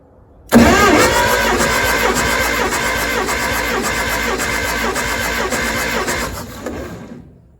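An engine with all spark plugs removed and the throttle wide open cranks for a compression test, giving a loud, steady starter whir with rhythmic pulsing that runs about six seconds before stopping.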